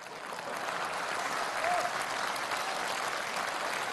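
Warm, sustained applause from a theatre audience at a Chinese quyi comedy sketch performance, swelling within the first half second and holding steady as a dense wash of clapping.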